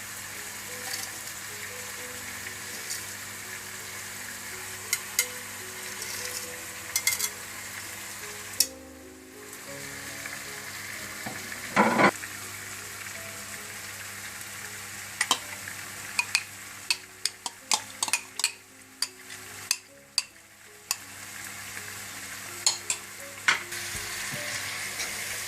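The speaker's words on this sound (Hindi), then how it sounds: "साथ साथ आप चिकन में भी चम्मच चलाते जाएं।" Chicken korma stirred with a spoon in a pot, a steady sizzling frying bed with scattered sharp scraping clicks of the spoon against the pot, no talking.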